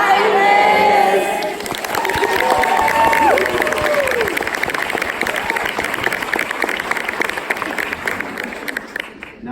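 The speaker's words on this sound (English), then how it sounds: "please say hi, Liz, and then applaud" Studio audience applauding and cheering, with a few shouted greetings, building into a dense, loud wash of clapping that holds steady for about ten seconds.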